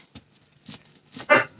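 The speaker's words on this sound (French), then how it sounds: "Chut, les chiens." Several dogs in a room give short, scattered yips and barks, with small whimpers in between. The sounds come close and fairly loud in quick irregular bursts, ending in one sharper bark.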